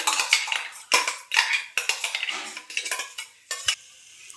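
Sugar and mango pulp for mango laddu being stirred in a pan over low heat, with bursts of close, rhythmic scraping and clinking of a spoon against the pan, alone.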